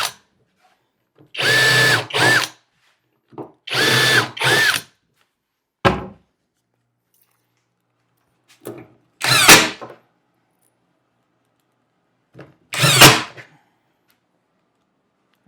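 A power drill drives screws into a kitchen cabinet in several separate bursts, the first two long and whirring, then a short blip and two more brief runs. Each burst is loud and close, with silence between them.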